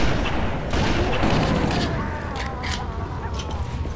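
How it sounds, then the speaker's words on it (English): A grenade explosion and bursts of gunfire in the game Halo, played on the Keyes level on Heroic difficulty, give a dense, rolling barrage of rapid shots and booms that sound mid-distance and continuous for the whole stretch. "Oh, that grenade didn't go far."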